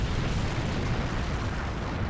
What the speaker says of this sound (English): Fresh explosions rocked the shell of the Havblock in the ruins of which they were hiding